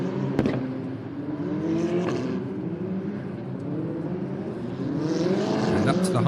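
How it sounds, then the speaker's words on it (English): Formula Regional race cars drone steadily around the formation lap, their engines a continuous mid-distance hum with gentle rising and falling pitch throughout. "So the cars are making their way round on the formation lap."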